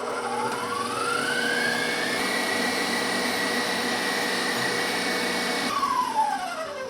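An electric mixer whips brownie torte icing with instant coffee added, giving a steady loud whir that shifts in pitch as it speeds up at the start and winds down near the end, with no talk over it.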